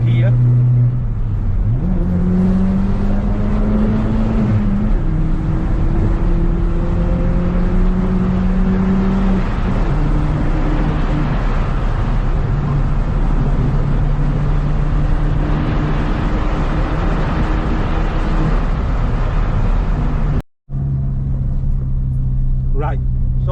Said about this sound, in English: The throttle response is brilliant, and I'll let you enjoy the rest of this drive.